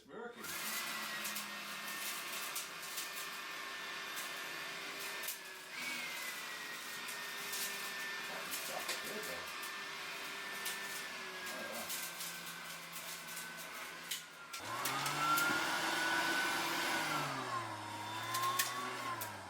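A Makita blower/vac runs close by with a steady whirring drone, which rises sharply in pitch and loudness near the end as the airflow changes.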